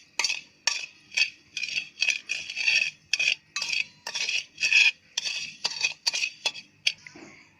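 A spoon stirs milk and sugar in a vessel, scraping and clinking in a brisk, regular rhythm of about a dozen close strokes, with no talk.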